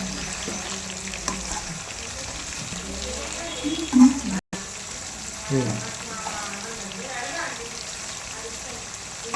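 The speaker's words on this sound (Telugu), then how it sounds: "టమాటా కూడా మంచిగా ఈ రొయ్యలతో ఫ్రై అయ్యేలాగా ఇలా మంచిగా కలిపేసుకొని" Prawns and tomatoes fry in a pan with a soft, continuous sizzle, and a few scraping stirs and clinks stand out, under faint background noise.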